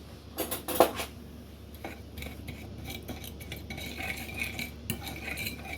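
Metal utensil clinks and scrapes against a pan while oil and sesame oil are stirred, a few sharp knocks early then quieter scraping over a faint steady background.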